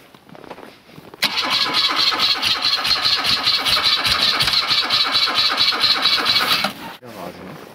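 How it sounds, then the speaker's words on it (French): A BMW rally car's engine cranks steadily for several seconds without catching, a loud continuous starter whir that cuts off abruptly, followed by quieter rustle. "C'est encore une BMW qui ne veut pas démarrer."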